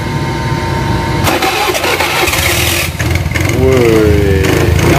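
A motor scooter engine is started at a used-motorbike dealer. The loud, close engine catches and settles into a steady idle that revs briefly, with people talking over it.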